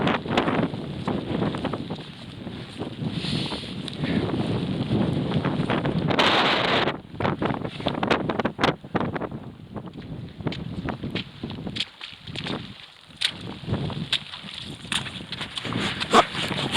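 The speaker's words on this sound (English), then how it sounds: "Got a bit sheltered from that wind there. That was strong." Strong gusting wind buffets the microphone outdoors at a winter camp, a loud roaring rush that surges and drops, with faint rustling and shuffling underneath.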